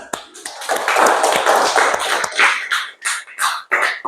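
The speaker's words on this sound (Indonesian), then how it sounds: "Oke, kasih tepuk tangan." A primary school classroom of fifth graders breaks into a few seconds of dense, close applause, with sharp overlapping claps that thin out toward the end.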